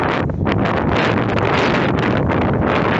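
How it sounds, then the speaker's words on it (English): Strong wind at Rackwick Beach on Hoy roars without a break, buffeting the microphone into a constant, heavy rumble with gusty surges. "it's a very windy day today."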